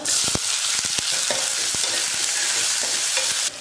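Chopped large onions hitting hot oil in a pan with dried red chillies, giving a steady close sizzle with scattered stirring knocks and scrapes throughout, ending abruptly.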